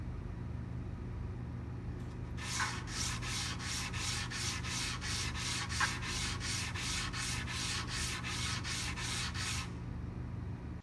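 A metallographic specimen rubbed by hand on stationary wet sandpaper under running water, a quick series of about fifteen rhythmic rasping strokes, close and even, over a constant low background hum.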